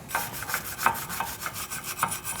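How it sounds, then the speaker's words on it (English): Wire brush scraping surface rust off the rear wheel hub of a 2016-2019 Chevrolet Cruze during a brake rotor change, a close run of repeated rough bristle strokes in a steady back-and-forth rhythm with no talk. "To clean it, I'm going to use a wire brush."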